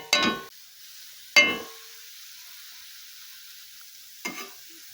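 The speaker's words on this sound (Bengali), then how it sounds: "কি সুন্দর লাল লাল করে ভাজা হচ্ছে দেখো" Three brief bursts of crackling sizzle as sesame seeds are turned with a spatula in a hot pan, separated by quiet stretches of faint frying hiss.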